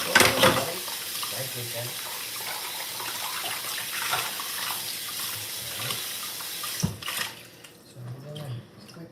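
Cool water runs from a kitchen tap, a steady splashing gush with brief clatters, while a voice speaks briefly over it.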